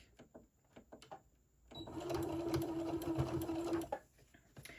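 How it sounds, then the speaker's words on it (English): A sewing machine runs close by for about two seconds, back stitching over elastic on a DIY face mask with a rapid, even mechanical whir, framed by soft clicks and handling sounds before and after. "Let's back stitch over this elastic"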